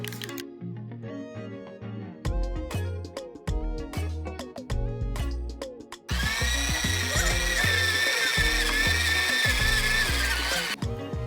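An electric mixer beats cookie dough for strawberry cheese soft cookies, its motor kicking in partway through as a loud, steady whir over light background music.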